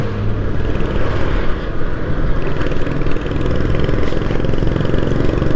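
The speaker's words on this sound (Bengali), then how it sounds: "এই সাউন্ড শুনেন রয়্যাল এনফিল্ডের" Royal Enfield motorcycle runs close and loud while slowly descending a hill road in Bangladesh, its deep rhythmic thump holding steady with slight surges, no talking over it.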